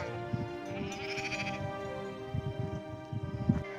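Sheep bleat repeatedly on a mountain hike among a flock that includes black sheep and a lamb, the calls bursting out irregularly over a steady outdoor background.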